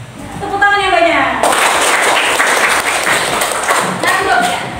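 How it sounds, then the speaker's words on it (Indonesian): Students in a classroom break into sustained, loud applause lasting several seconds, with voices heard just before and as it fades. "Tepuk tangan yang banyak."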